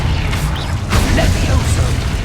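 Exposo explosion spell going off in the Hogwarts Legacy video game, a dull boom and crashing burst within continuous loud game sounds, with a voice talking over it.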